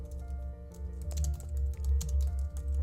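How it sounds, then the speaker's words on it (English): Fast typing on a computer keyboard, a close run of light, irregular key clicks over a low steady background hum, with no speech. "I'm going to type"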